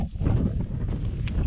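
Cold wind on an exposed boggy upland trail at Glendalough, Ireland, buffeting the microphone in low rumbling gusts throughout a brief moment, loud and close with no other sounds.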